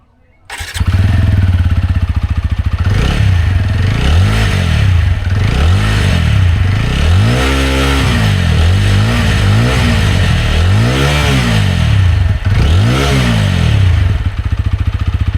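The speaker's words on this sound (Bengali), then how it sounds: "চলো এবারে একটু বাইকের এক্সস্ট সাউন্ডটা শোনা যাক, এক্সস্ট সাউন্ডটা কেমন।" A TVS Apache RTR 160 4V motorcycle, 2026 model, fires up and its exhaust is revved in a series of rising and falling blips, loud and close, over a steady rough idle.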